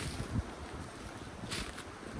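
Gusting wind in a winter forest: a faint, steady airy rush with low buffeting rumble and a brief swell of hiss partway through, distant and without speech.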